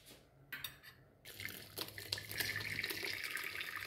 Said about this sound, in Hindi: अब हम इसको छान लेंगे, पानी पूरे निथार लेंगे